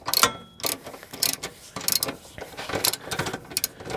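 A 10 millimeter bolt on a Chevrolet Cavalier or Pontiac Sunfire evap canister being tightened with a ratchet, giving quiet bursts of rapid clicking in repeated strokes about every half second.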